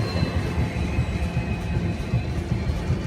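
A locomotive-hauled train rolls in at Hubli station, a steady low rumble of wheels and engine heard close by with faint high whines above, continuous over the whole moment.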